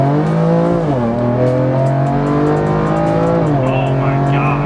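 A 745-horsepower BMW M4 build accelerates hard, its engine note climbing through rising harmonic sweeps with brief dips at gear shifts, loud and continuous from up close.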